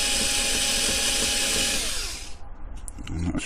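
A power drill whines steadily while boring into a die-cast Corgi 270 James Bond Aston Martin model, loud and continuous, then winds down and stops, followed by faint clicks and handling noises.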